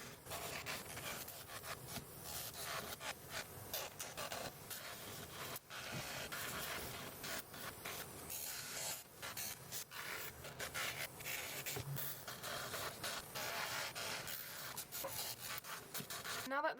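Gel nails being filed with a nail file at home, a steady close scratchy rasping that runs continuously with brief pauses between strokes, no talking over it.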